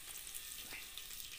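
Hot oil sizzles and crackles steadily at close range as coriander and fenugreek fry in a tempering, a bright hiss with a few small pops.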